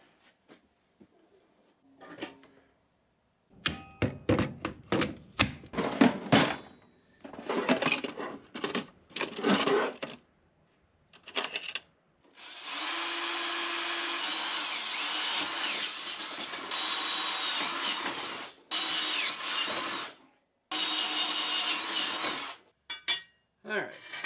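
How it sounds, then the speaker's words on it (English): A power drill bores mounting holes for a paint storage rack, heard as several long, loud sustained whirring bursts separated by short pauses, preceded by scattered clicks and handling clatter. "We just need to drill some holes now to mount this with."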